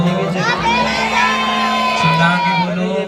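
Large crowd at a Radha Krishna devotional gathering shouting loudly in unison in response, a sustained roar of many voices with sung and chanted tones running through.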